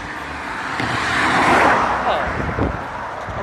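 A car passes along a road in a broad swell of traffic noise that rises toward the middle and then fades, with a second vehicle rumbling by near the end; no talking.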